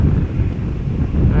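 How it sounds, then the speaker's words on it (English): Strong wind blowing steadily across the microphone at Amsterdam Schiphol Airport, a loud continuous rumbling buffet that fills the whole stretch without any talk. "Still windy. Doesn't seem like it is slowing down the wind."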